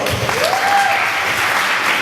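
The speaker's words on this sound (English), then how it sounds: "Please a round of applause." An audience at a community event gives a loud, dense round of applause that fills the whole moment close up, with a brief high whistle-like tone rising above the clapping.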